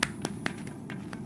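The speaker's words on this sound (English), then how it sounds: "Here's some snapping for you" Fingers snap in a steady rhythm, four or five crisp, fairly close pops spaced evenly over low background hum, with no talk.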